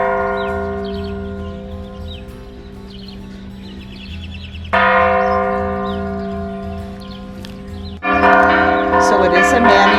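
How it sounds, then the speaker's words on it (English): Church bells in a Mexican town are rung by hand, a steady layered clang whose strikes grow louder and denser partway through, with faint birdsong in the background. "So it is a manual ringing of the bells"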